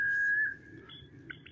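A steady high whistle from a Reyoka quail-call whistle sounds clearly for about half a second, then fades into softer, brief chirping whistles over a low background murmur.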